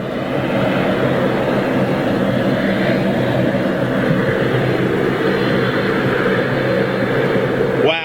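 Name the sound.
Virgin airliner departing Manchester Airport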